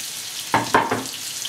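A few short clattering bursts over a faint background hiss as onion is stirred in a hot pan, then a steady low sizzle.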